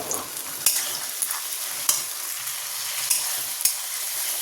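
Tomato, green chili and ginger paste fry in a pan with grated coconut and potatoes, with a loud, close sizzle and repeated scraping stirs of a spatula at an irregular rhythm.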